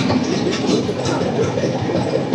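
The Uday Express from Visakhapatnam to Vijayawada rolls along, heard from inside a coach as a loud, continuous rumble and rattle of the wagon with faint rhythmic clatter and no voices.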